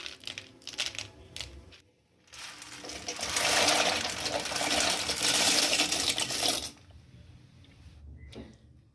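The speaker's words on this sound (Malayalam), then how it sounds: "വെള്ളം തിളച്ച് വരുന്നുണ്ട്." Water coming to a boil in a pot for cooking macaroni with a little oil added, a bubbling, rushing roar that swells for several seconds, then drops back to quieter sounds.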